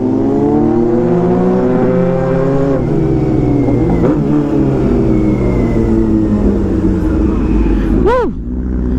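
Superbike engine revving hard at a motorbike show and race event, a loud sustained roar with rising and falling harmonic sweeps and a sharp high rev burst near the end, close and continuous.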